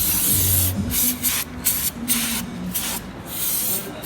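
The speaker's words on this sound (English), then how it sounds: "So he's gonna spray this up." Repeated bursts of aerosol cleaner sprayed into an Infiniti G35 coupe's throttle body hiss loudly at close range, several short blasts separated by brief pauses.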